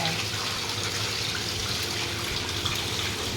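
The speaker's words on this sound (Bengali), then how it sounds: "অনেকক্ষণ থেকে দেখছো ইলিশ মাছ ধোয়া চলছে।" Tap water gushing steadily as hilsa fish is washed, a dense close splashing rush filling the whole short stretch without pause.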